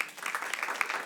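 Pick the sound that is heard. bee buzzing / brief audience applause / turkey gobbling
brief audience applause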